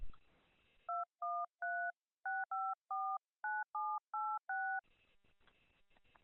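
Telephone keypad DTMF tones enter a phone number during an automated banking verification call, about a dozen crisp evenly spaced beeps, clear and isolated, between faint line hiss.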